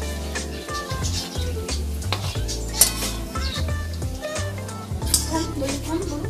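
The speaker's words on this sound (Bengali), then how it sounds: "বড়াগুলো আমি ভালো করে উল্টে নেব।" Ripe mango fritters frying in a pan and being turned with a metal utensil, with a soft sizzle under several sharp clinks and scrapes against the pan and a voice talking.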